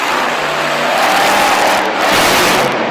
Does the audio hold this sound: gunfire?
no